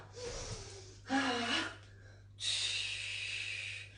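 Sharp inhalations during a Pilates exercise class, two distinct breaths, the second longer and steadier, heard close and fairly loud with no talk over them.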